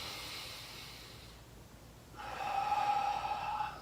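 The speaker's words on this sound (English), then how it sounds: "And now if I take a deep breath in" A person takes a deep breath in during a low back pain breathing exercise. The inhale is close and rising, a soft airy rush lasting about a second and a half, after a quieter breathy lead-in.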